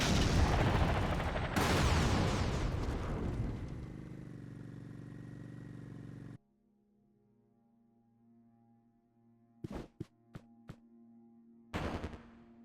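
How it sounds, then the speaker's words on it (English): Missiles and gunfire in the Katana Zero video game boss fight against V: a dense, loud barrage of blasts, then a drop to a low hum, followed by several sharp separate shots and a final burst. "It's got a phase where you need to dodge missiles, and another one where you're gonna dodge bullets."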